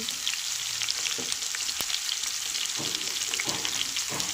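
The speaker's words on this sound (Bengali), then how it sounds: "গাজর সব সবজিগুলো দিয়ে আমি নেড়ে করে নেব" Mixed vegetables, including pumpkin, drumsticks, cauliflower, beans and carrot, fry loudly in a pan as a constant bright sizzle, with occasional stirring scrapes.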